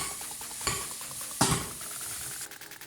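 Onions cooking down in a pan on medium heat for pickled fish, a soft continuous sizzle broken by a few scraping stirs of a utensil, close and clear with no talking.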